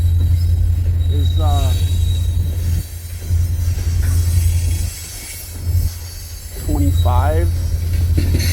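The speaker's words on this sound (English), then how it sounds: "those locomotives are really pulling too" Locomotives haul an autorack freight train past on the track near a switch. A loud, close, low rumble runs nearly throughout, with brief high wheel squeals rising above it twice.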